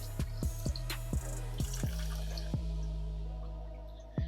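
Water drips steadily into a guppy fish tank during slow acclimation, with a quick run of close, regular drops that then slows to a few sparse plinks against a faint background hum.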